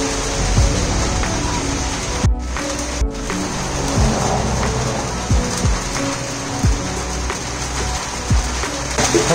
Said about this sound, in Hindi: अब बारिश जिस तरह से हो रही है लग रहा है कि टूटेगा।